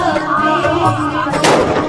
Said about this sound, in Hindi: लोग पटाखे फोड़ रहे हैं।